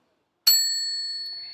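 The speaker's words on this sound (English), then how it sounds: "you will hear this bell" A debate timer bell gives a single bright ding that rings on with a long, clear, slowly fading tone, alone in otherwise silent surroundings.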